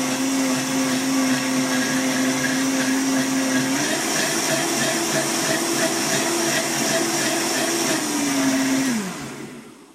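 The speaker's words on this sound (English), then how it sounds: "This Vitamix does have two speeds, high and lower, but both are pretty high." A Vitamix blender runs loud and continuous with a high whine while blending a coconut milk smoothie, its pitch shifting partway through before the motor winds down at the end.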